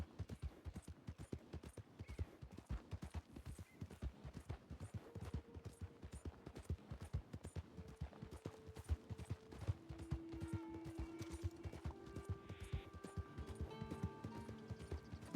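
Steady clip-clop of horse hooves trotting in a western video game, dense and rhythmic, with game-like music tones rising in the second half.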